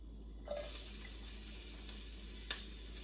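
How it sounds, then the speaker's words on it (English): Mustard seeds, urad dal and chana dal dropped into hot oil, a sudden steady hiss and sizzle that starts abruptly and carries on close up with a faint crackle, with no voices. "Oil is hot. Now I'm adding mustard seeds, little bit of urad dal, little chana dal, and I'm adding some ginger"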